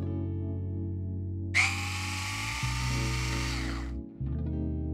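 An electric 2mm hex driver spins out a lower shock mount screw in a single whirring burst of about two and a half seconds, close and clear over a steady low hum.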